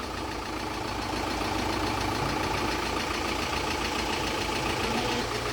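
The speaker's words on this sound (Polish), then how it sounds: "Słychać jak klepie." An Audi A4 engine idles steadily with a persistent knocking, clattering rattle after a timing belt replacement, the noise continuous and fairly close throughout with no talking.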